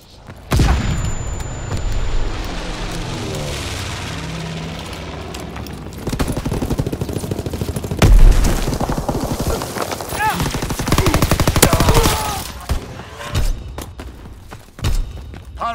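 Heavy machine-gun bursts, single gunshots and booming explosions crash through a WW2 battle video game, loud and sustained with dense overlapping fire, a whirring engine-like drone early on, and shouted voices beneath the chaos.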